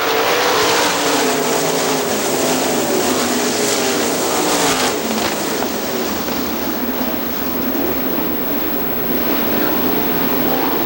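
A pack of sprint race cars roars loudly at Hartford Speedway as they take the green flag, the engines blending into a continuous, rumbling thunder that swells briefly midway.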